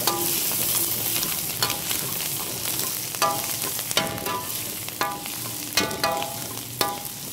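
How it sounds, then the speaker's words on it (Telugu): Green chillies fry in a pan, giving a steady sizzle. A utensil stirs them now and then, and each stroke makes a sharp scraping clatter at an uneven pace, loud and close. "బాగా మగ్గిన తర్వాత పచ్చిమిర్చి చేయాలి. బాగా ఫ్రై చేసుకోవాలి."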